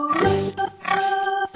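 A children's toy plays a short recorded pig oink, two grunting snorts in quick succession, close and clear with nothing else around them.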